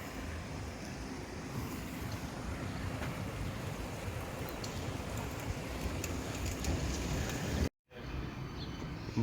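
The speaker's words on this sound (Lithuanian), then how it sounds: "Upė tikrai teka srauniai." A fast-flowing river in Vang Vieng, Laos, rushes steadily beneath a swaying bridge, a loud, continuous broadband roar with wind buffeting the microphone, briefly cutting out near the end before resuming.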